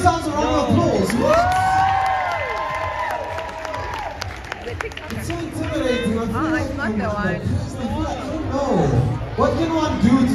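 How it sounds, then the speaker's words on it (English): A crowd at a work event applauds and cheers with whoops, the clapping and shouts mixed with lively chatter and people talking close by throughout, loud and busy. "Please give yourselves a round of applause"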